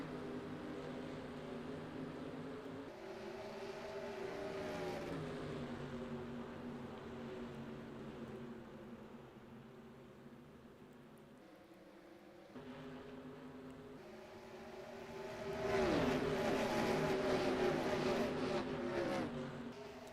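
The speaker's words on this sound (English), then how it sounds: "The green flag is in the air. We are racing here in Kansas, Toto." Stock cars racing at Kansas in the NR2003 racing game, a droning pack of engines whining steadily, then swelling louder as cars sweep close past, with no voices present.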